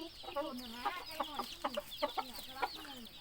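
Chickens cluck in a coop, including a white hen, a run of short, rhythmic clucks repeating about every half second, fairly faint and close, with no talking.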